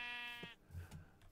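A sheep in TerraFirmaCraft gives a single wavering bleat, followed by a few soft low thuds and shuffling sounds.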